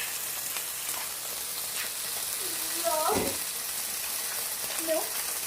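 Milk is poured into a large hot skillet for Alfredo sauce, a soft sizzle and a brief splashing pour heard up close, with a person talking.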